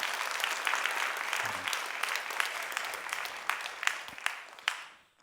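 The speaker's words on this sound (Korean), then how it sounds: "박수 한번 쳐줘봐요" A church congregation applauds throughout, a dense steady clapping that thins slightly toward the end, with a few sharper claps standing out before it stops abruptly.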